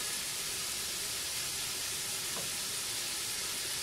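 Cassava soup ingredients, including meat left over from a barbecue, sauté in a pan with a steady, soft, continuous sizzle and hiss, with no talk over it.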